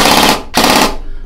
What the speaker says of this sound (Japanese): ちょっとフルの音も聞かせていきます。